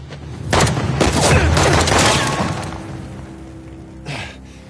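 Gunfire in the video game Uncharted: The Lost Legacy: a loud, dense burst of rapid shots and booms that lasts about two seconds and then fades, followed by a shorter single blast.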